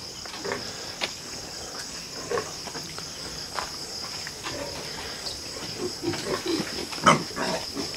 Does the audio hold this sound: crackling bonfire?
no